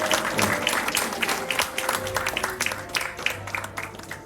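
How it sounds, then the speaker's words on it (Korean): An audience at a school reading-essay award ceremony claps for a student prize winner, a full, steady round of applause with individual claps standing out near the end as it begins to thin. "큰 박수로 응원을 부탁드리겠습니다"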